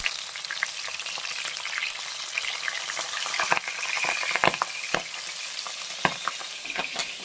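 Several fish bubble and spit vigorously in hot oil in a pan, a continuous close sizzle broken by a few louder pops and clatters as the pieces are moved.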